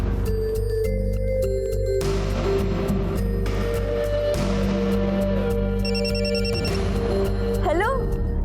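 A telephone rings with an incoming call in a home after a wedding ceremony, its repeated electronic ring tone sounding over steady background music and voices.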